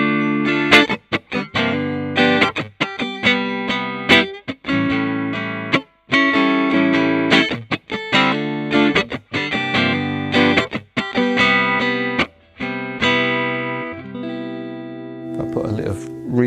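A 1960 Fender Custom Shop Relic Stratocaster played on its neck pickup rings out in clean, full strummed chords and picked phrases, loud and close, with brief gaps between passages.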